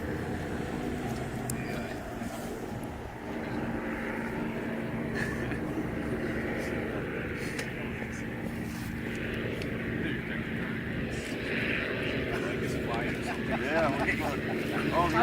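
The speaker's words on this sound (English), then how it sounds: "Here comes our" A P-51 Mustang piston-engine fighter arrives at an airshow fly-in, its steady propeller drone rising gradually in loudness as it nears, heard at a distance under the chatter of people nearby.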